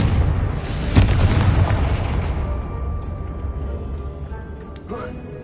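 The Confringo blasting spell in Hogwarts Legacy detonates with a single loud, deep boom near the start, its rumble slowly fading away, followed by a faint pop toward the end.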